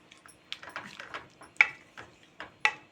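A metal lid is set onto a pan of palak spinach gravy, making a series of close, light clinks and taps with two sharper metallic knocks near the end.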